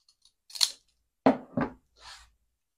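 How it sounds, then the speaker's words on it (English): Scissors snip through paper edging for a junk journal apron, giving three or four crisp, close cuts in an uneven rhythm, with short quiet gaps between them and no talk. "maybe I'll use these scissors just to give it a bit of that edging."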